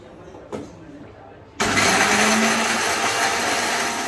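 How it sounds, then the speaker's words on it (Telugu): A kitchen mixer grinder whirs loudly and steadily, grinding fried dry red chillies with salt; a brief click comes first, then the motor starts abruptly and runs at a constant high-pitched roar. "ఇప్పుడు అదైతే మిక్సీ పట్టుకోవాలా"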